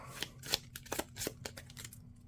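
Encounter cards for the Marvel Champions card game shuffled at a table, a quick run of crisp riffling snaps and soft flicks, close and fairly quiet, with no talk.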